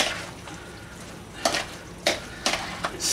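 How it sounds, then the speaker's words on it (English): A spoon stirs warm boiled potato salad with mayonnaise in a bowl, making a few soft wet scrapes and taps in an irregular rhythm, close and fairly quiet over faint background noise. "we get in there with a spoon and stir to mix it with all those ingredients"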